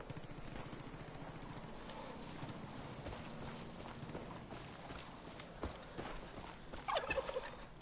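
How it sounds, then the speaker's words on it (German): A turkey gobbles in Far Cry New Dawn, a quiet, rough burst of calls over soft footsteps and hoof-like clopping, with a sharper flurry near the end. "Oh, Truthahn des Grauens."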